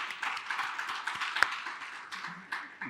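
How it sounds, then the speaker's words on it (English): Sparse applause from an audience at a biodiversity policy event welcomes speakers, a thin scattering of claps that rises and falls irregularly at modest volume. "I ask you for a warm applause to welcome them."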